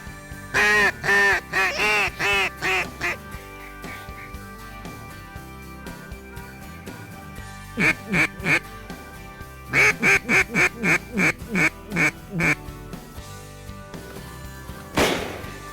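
Ducks quack loudly and close during a duck hunt in Kansas, repeated rhythmic runs of nasal quacks in several bursts with short gaps, over steady background noise.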